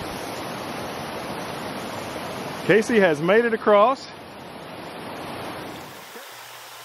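Creek water rushes steadily during a creek crossing on a hike to Rock Creek Falls, a broad, even roar that holds throughout. A voice speaks briefly partway through.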